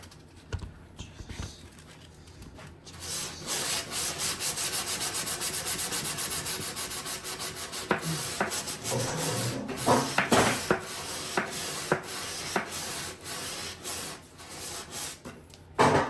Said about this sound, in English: I'm gonna take my sanding block and get this nice and clean